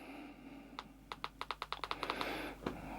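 A run of about a dozen crisp, evenly spaced keystrokes on a mini wireless keyboard, close and clear, speeding up slightly before trailing off.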